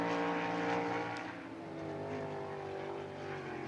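Todd Burgard's High Limit sprint car roars past at Lernerville Speedway, a loud engine howl that falls in pitch as it moves away, then a steady drone of other engines around the dirt track.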